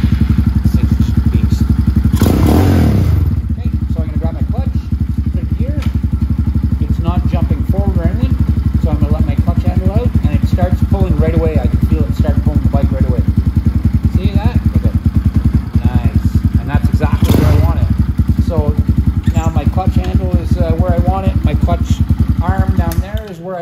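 A 250cc Venom chopper motorcycle with a badly worn engine runs steadily and loudly close by throughout, a rough clattering idle with a couple of sharp thumps, while a voice talks over it.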